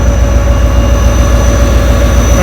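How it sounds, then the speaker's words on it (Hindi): A train rumbles at Tando Adam railway station, a loud, heavy low drone with a steady mechanical hum and faint high whine, continuous and close without pauses or voices. "टंडवादम रेलवे स्टेशन है"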